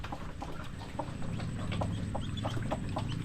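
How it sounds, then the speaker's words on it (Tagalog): Native chickens cluck softly in short irregular bursts against a steady low rumble of background noise. "Mga native lang po na manok yung nandito."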